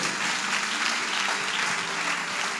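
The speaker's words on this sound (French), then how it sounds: "Vous pouvez applaudir mieux que ça." A church congregation at a pastoral recognition congress bursts into dense, loud, continuous applause, a thick wash of many hands clapping with no pause.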